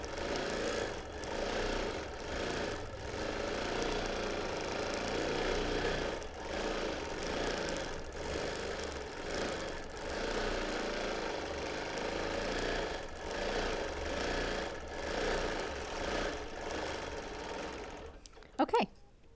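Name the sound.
quilting machine stitching edge to edge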